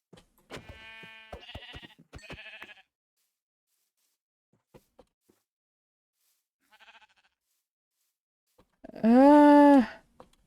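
Sheep in the Minecraft video game give a single loud, drawn-out bleat near the end, after several short electronic in-game sound effects and clicks.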